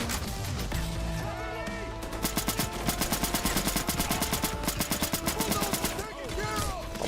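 Rapid automatic cannon fire in the Helldivers video game rattles out in a long, loud, evenly spaced burst over a dense battle soundscape of explosions and effects, with a voice talking underneath.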